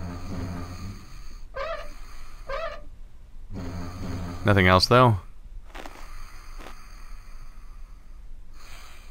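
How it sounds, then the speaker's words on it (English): Snoring from a sleeping character in Quadrilateral Cowboy: a few slow, rhythmic snore breaths repeat at intervals, moderately close, with a louder rasping snort in the middle, while a person talks over parts of it. "It almost sounds like I'm measuring the snoring"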